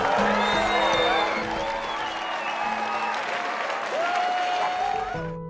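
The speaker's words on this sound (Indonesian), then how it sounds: "hingga membuat penonton bertepuk tangan untuk mereka" Concert audience applauding a jazz performance in the animated film Soul, a steady wash of clapping that fades slightly while music tones and brief sounds rise over it.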